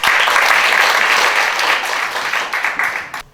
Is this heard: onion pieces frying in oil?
no